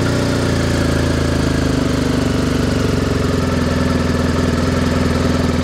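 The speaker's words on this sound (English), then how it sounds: "let's do the one with the decatted header. So we're just letting it warm up" A loud engine fitted with a decatted header idles steadily with a deep, rough, throaty rumble and a faint rhythmic pulse, running alone without any voices.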